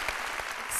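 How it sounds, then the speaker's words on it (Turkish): Studio audience applause on a Turkish TV talk show, a dense wash of clapping filling the whole short moment, steady and fairly loud with a brief swell near the end. "Bir alkış."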